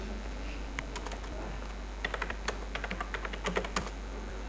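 Computer keyboard typing while entering a router configuration for a networking lab, a quiet run of separate key clicks at first, then quicker bursts of taps close to the mic, with faint room noise underneath.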